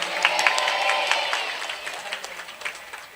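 An audience at a Hari Santri religious gathering claps, the applause loud at first and then thinning to scattered claps.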